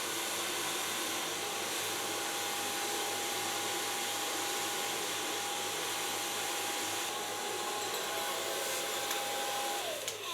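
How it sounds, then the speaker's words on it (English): A hair dryer blow drying hair, a loud, steady close-up whoosh of rushing air with a faint constant whine, running unbroken and alone throughout. "So far blow drying."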